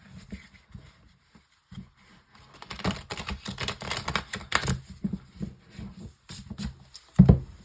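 Tarot cards from a smile-themed deck are shuffled and handled up close for a five-card draw, giving a stream of soft flutters and light taps that build, then end with one sharp knock.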